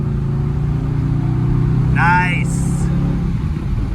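A 1965 Chrysler 300L in a kickdown test has a low engine drone that swells slightly as the car accelerates, with brief squeaky tones and a short spoken remark over it.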